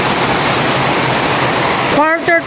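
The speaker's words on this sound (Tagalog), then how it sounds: "biglang buhos ng ulan. Ganito po yung ulan, tapos may konting araw." Sudden heavy rain pours down on an afternoon with a little sun, a dense, loud, steady roar that fills the clip, with a voice briefly speaking over it near the end.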